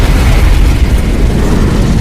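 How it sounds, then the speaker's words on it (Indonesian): A man blown apart by an explosive in a film about condemned prisoners forced to fight on a remote island: a loud, sustained, deep booming rumble that stays heavy and steady throughout, with no talk over it. "Yasanwa pun berlari dan Preston pun tewas meledak."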